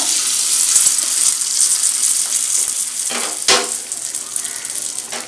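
Steady, loud sizzling and crackling of hot tempering poured into a ridge gourd chutney, with a couple of sharper bursts partway through and no talking.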